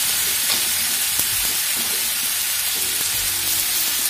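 Cumin seeds, one spoonful, sizzling as they fry in hot oil for an egg curry gravy, a steady dense hiss with faint crackles throughout, close and continuous with no talking.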